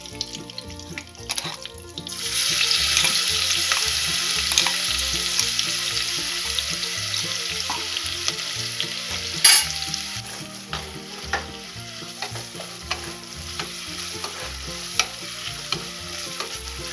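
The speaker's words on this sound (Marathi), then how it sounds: "हा मसाला छान परतवून घ्यायचा." A thick masala paste with curry leaves for a Khandeshi eggplant curry is stirred in hot oil, giving a steady close sizzle and frying hiss with scraping spoon strokes and clinks throughout and no speech.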